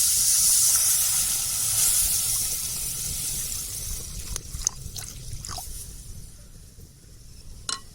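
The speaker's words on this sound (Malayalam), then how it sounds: "നമുക്ക് ഇതിലേക്ക് പച്ചവെള്ളം ഒഴിച്ചു കൊടുക്കാം." Water splashes into frying masala for a Kerala-style snakehead fish curry, setting off a loud, bright sizzling hiss that dies down over several seconds into quieter bubbling and crackles, with no voices.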